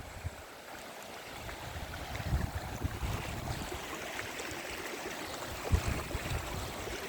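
Strong river water rushes along a damaged road near Bhor, Maharashtra, giving a continuous broad, fairly faint roar with gentle swells and no speech.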